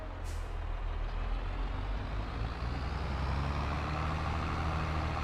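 Engine of a JCB Fastrac tractor in the farming game Farming Simulator 22, a loud, steady low diesel drone with a broad rumbling roar running unbroken throughout, close and alone with no talk.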